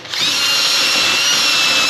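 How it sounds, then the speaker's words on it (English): A wire brush spinning on a power drill against rear suspension parts of a Ford Kuga, a loud, steady high-pitched whir that starts abruptly and holds without pause, up close with no talk. "we're going to get on our wire brush now on the drill"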